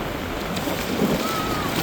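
Ocean waves wash at a beach, a continuous rushing surf with wind noise buffeting the microphone, with a brief swell in the middle.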